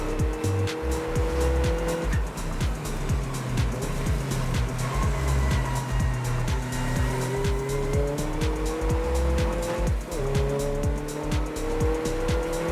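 Racing cars including a BMW M3 GTR pass on a circuit at the Anglesey race weekend, engines roaring loud and near with rising and falling pitch, rapid gearshifts and brief tire squeal.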